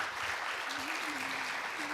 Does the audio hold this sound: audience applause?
yes